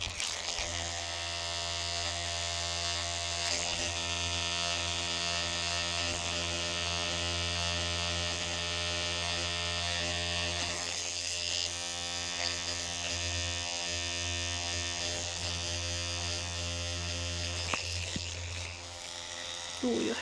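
Electric hair clippers buzz steadily and close up during a haircut, with a constant droning hum that holds for the whole stretch.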